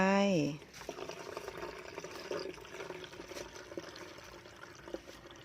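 Plain water poured from a glass into a container while mixing a homemade insect-repellent spray of kaffir lime and water, a steady close splashing pour that runs several seconds, with a brief tonal sound just before it begins.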